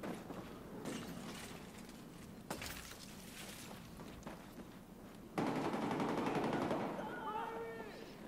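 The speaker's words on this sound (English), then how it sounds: "I'm whipping out my pistol." Pistol gunfire in the video game Battlefield, several sharp shots scattered among distant in-game gunfire and explosions, with a louder burst of combat noise near the end while a player talks.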